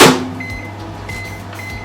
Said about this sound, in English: I'm gonna put it back into the microwave another 30 seconds.